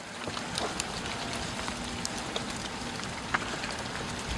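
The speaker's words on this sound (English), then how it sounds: "now we're getting a mix of snow and freezing rain, and it's really, really heavy" Heavy mix of freezing rain and snow falling outdoors, a steady dense patter with scattered sharper drips and taps throughout, no voices.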